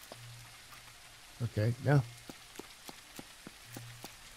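Heavy rain falling outdoors as a steady, fine patter with scattered sharper drops, while someone speaks briefly over it.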